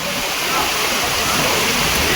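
Heavy monsoon rain pours and water rushes past shop fronts in a residential lane, a dense, steady hiss and gush filling the whole stretch with no break.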